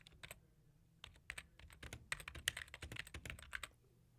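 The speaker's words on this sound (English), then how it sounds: "add a return at the end of this headline and then type something" Bursts of key clicks from a computer keyboard being typed on, quick irregular strokes in short runs with brief pauses, close and fairly quiet, no voices.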